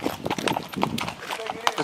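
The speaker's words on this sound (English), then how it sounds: "they're taking the horses back" Horses walking on a Puerto Rico horseback ride, their hooves clip-clopping in an uneven rhythm close by, with people talking over them.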